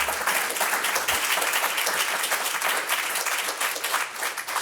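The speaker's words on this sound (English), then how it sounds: "Let's give Matthew a round of applause for" Steady applause fills a room as an audience claps through a community business presentation on Black-owned businesses in Champaign-Urbana, Illinois; it is dense and even, without voices.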